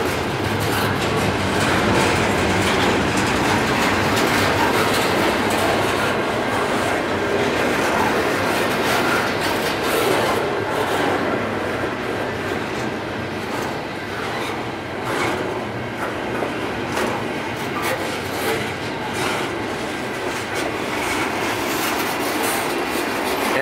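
A freight train rolls past close by with a steady, loud rumble, rhythmic clickety-clack of wheels and occasional squeals, no voices.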